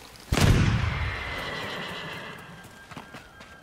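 A horse whinnies loudly in a video game, a sharp neigh that trails off over a couple of seconds, with a faint hoof clatter and game sounds behind it.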